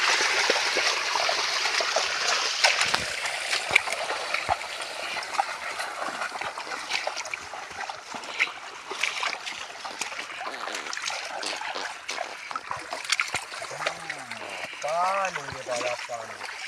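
Irrigation water flows from a pipe into a farm field, a continuous rushing trickle and splash that persists throughout, with a voice talking over it near the end.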